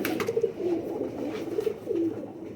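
A Rampuri Chanda Khani pigeon coos in soft, throaty repeated phrases, two clear bursts close to the listener over a steady background hum.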